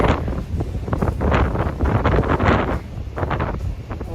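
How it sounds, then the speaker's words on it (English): Gusty wind on the Appalachian Trail buffets the microphone in rough, rumbling surges, close and loud throughout, with no speech. "It's windy."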